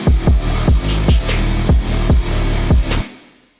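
A trametal trap type beat where booming, distorted 808 bass comes in under punchy kicks and crisp hi-hats in a steady loud groove, then cuts off abruptly with a short fading tail.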